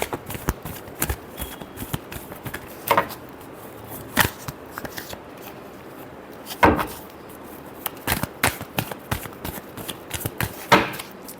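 Tarot cards are shuffled by hand in short, irregular bursts of riffling and sharp taps against a surface, close up, with quiet pauses between and no talking.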